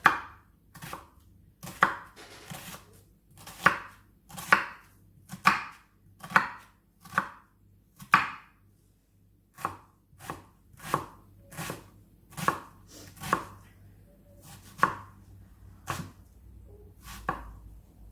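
An onion being chopped with a knife on a cutting board for bolognese sauce gives steady, evenly spaced sharp chops, about one every second, close and clear with nothing else heard.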